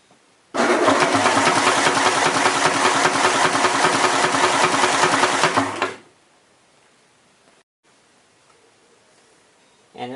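Nissan KA24E engine with an adjustable piston fitted cranks and starts, running loud and steady with a dense mechanical clatter for about five seconds before cutting off abruptly, leaving near silence.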